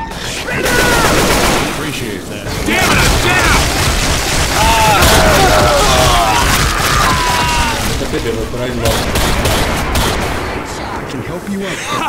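Sustained bursts of gunfire from Left 4 Dead 2 on Realism/Expert difficulty in the Crash Course campaign, loud and dense with booming shots, while players shout to each other throughout.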